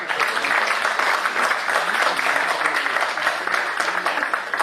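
An audience at a kavi sammelan poetry gathering at Bharati Vidyapeeth in Paschim Vihar applauds a poet with steady, moderately loud clapping that holds evenly for nearly five seconds.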